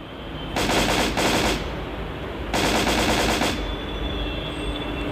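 Automatic gunfire rattles in a shooting video game set near a railway on empty land, in two rapid bursts about a second long each, separated by a short pause, loud and close over a steady background hum.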